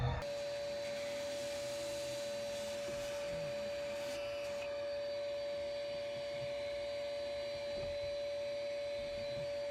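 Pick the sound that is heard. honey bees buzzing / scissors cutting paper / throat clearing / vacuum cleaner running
vacuum cleaner running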